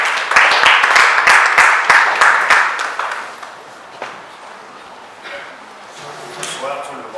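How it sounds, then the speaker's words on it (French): Congregation applause at an evening church gathering, a loud burst of many hands clapping with sharp individual claps, fading after about three seconds into quieter room noise with faint voices. "Nous applaudissons le Seigneur pour sa vie."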